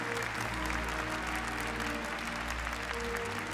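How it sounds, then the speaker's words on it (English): A crowd applauds steadily and loudly at an awards ceremony for the Gran Turismo World Series Nations Cup finals, a dense continuous clapping throughout. "Pol Urra being congratulated by the crowd."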